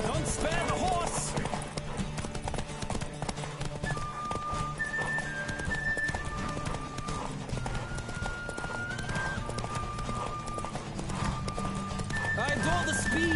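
Hooves clop steadily as a horse moves in The Witcher 3 game, with a continuous rhythmic beat under a dense mix of music and voices throughout.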